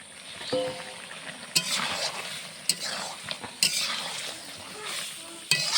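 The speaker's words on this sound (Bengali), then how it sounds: "তেল উপরে ভাসে পটলগুলা ঢেলে দিলাম ভেজে রাখা পটল" Fried pointed gourd tipped into oil and spiced masala, then stirred: a continuous sizzle broken by several clattering scrapes of a spatula against the pan, close, with faint background sounds.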